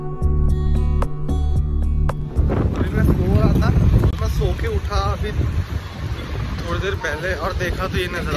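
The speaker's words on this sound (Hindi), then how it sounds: "बहुत तेज आंधी चल रही है।" A strong windstorm blows outdoors through trees, with loud, continuous gusting rush and rumble. Someone talks over it throughout, and a brief tonal sound is heard at the start.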